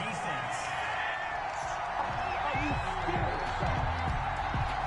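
Stadium crowd in an American football video game booing a penalty flag, a sustained loud roar of disapproval with a commentator talking over it throughout.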